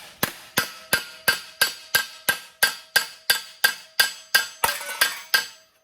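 A hammer strikes sheet metal in a fast, steady run of about fifteen sharp, ringing blows, each one decaying quickly.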